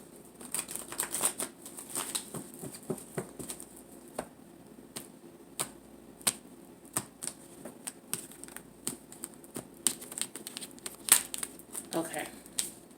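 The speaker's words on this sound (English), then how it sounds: "Okay, one more shuffle." Tarot cards being shuffled by hand produce a run of quick, close riffling flutters and soft taps, brief bursts repeating throughout at low volume, with faint voice traces in the background.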